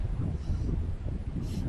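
Wind buffeting a microphone outdoors on the Quantock Hills, a low, blustery rumble with gusts swelling and easing over a couple of seconds, no talking.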